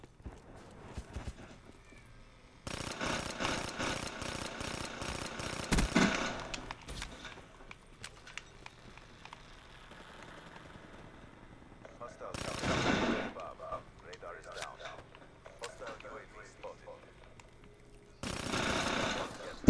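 Bursts of video game gunfire in a shooter, with loud rapid clusters of shots in several separate volleys between quieter stretches of game sound.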